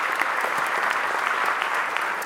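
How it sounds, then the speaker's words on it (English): Steady, dense applause from a graduation audience fills the whole stretch, loud and even with no pauses, a large crowd clapping together. "A round of applause for the behind-the-scenes crew."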